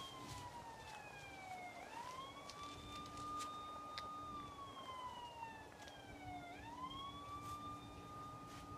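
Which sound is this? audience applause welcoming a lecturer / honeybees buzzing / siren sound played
siren sound played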